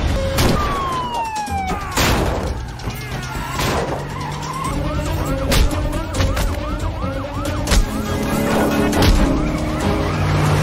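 Police cars with wailing sirens arrive in a film chase scene. Overlapping rising and falling sirens sound close and loud over engine roar, tyre skids and sharp crashes and impacts.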